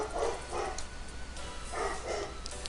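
A dog barks in two quick pairs of woofs, moderately close but not loud, over a faint room hum with no talking.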